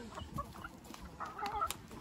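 Chickens on a poultry farm cluck in short, scattered bursts, close by, with soft overlapping calls from the flock around them.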